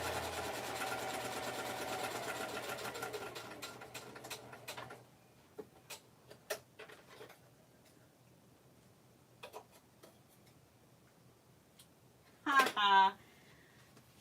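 A sewing machine stitching through a paper card runs in a steady, fairly quiet mechanical whir, then stops, leaving scattered small clicks and a brief louder burst near the end.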